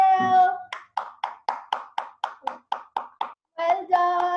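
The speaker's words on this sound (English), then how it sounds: "Everybody clap for yourself." Children and mothers at a kindergarten Mother's Day celebration clap in a steady, evenly spaced run of about ten crisp claps, framed by sung or voiced tones before and after.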